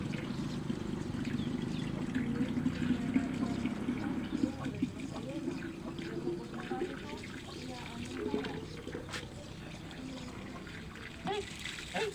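Water runs steadily from a garden tap while mixing fertilizer spray for plants, a continuous close trickling and pouring that persists throughout, with faint background activity.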